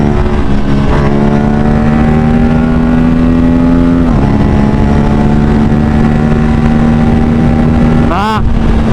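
A KTM RS457 motorcycle pulls at full throttle in third gear, its loud engine drone held steady and close under strong wind noise. The pitch shifts a few times, and a sharp rev change comes near the end.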